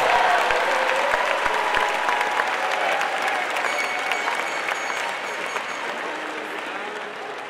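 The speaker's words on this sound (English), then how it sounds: "turn to face your family and friends to acknowledge their support and encouragement by extending them a round of applause" Graduation ceremony audience applauding at a university commencement, a dense, loud, sustained wash of clapping from a large crowd that fades slightly toward the end.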